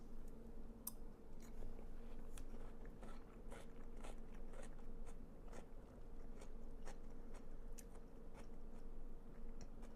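Crunchy bites and chewing of a jicama, honeydew and melon fruit salad with light spice, a string of sharp crisp crunches over a steady low hum, no talk.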